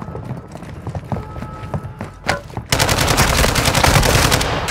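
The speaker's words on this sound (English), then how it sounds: "Taking effective fire!" Rapid automatic gunfire rips through a Call of Duty Warzone match on Ashika Island, with sparse shots and thuds early on, then a sustained, loud burst of fire for the last two seconds.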